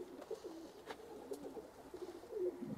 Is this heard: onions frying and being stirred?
no